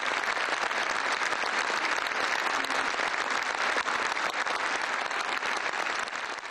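Loud, sustained applause from a concert audience giving a standing ovation to Japanese koto soloist Atsuko Suetomi at a Turkish-Japanese friendship concert in Bursa, dense clapping that continues steadily throughout.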